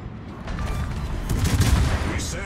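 Heavy cruiser guns of the Tier 10 Commonwealth ship Cerberus fire armor-piercing shells in World of Warships, a loud, dense rolling volley of booming blasts building to a peak midway and then easing off.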